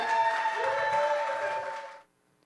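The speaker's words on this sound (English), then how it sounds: "start clapping right now. Clap, clap, clap." A poetry slam audience claps and cheers for a poet, a loud, sustained burst of many hands with a tonal ringing layered over it, cutting off abruptly after about two seconds into near silence.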